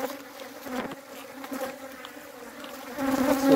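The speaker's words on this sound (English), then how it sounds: "A lot of bees on the camera, which is why it goes blank here every once in a while." Africanized honeybees from a newly combined split of a hot hive swarm close around the camera, a dense, steady buzzing drone that grows louder toward the end.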